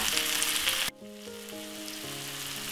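Onion and peppers fry in a pot with a loud, steady sizzle that suddenly drops to a quieter, continuous crackle, with faint tonal hums beneath.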